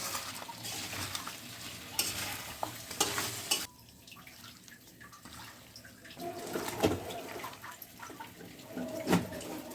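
Potatoes and chopped tomato are mixed in a pan with mustard oil, onion and green chilli, giving soft stirring scrapes over a steady sizzle, with clearer clatter toward the end and no talking.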